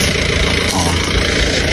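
A motorcycle engine idles steadily and loudly close by, a constant low rumble throughout, with people talking over it.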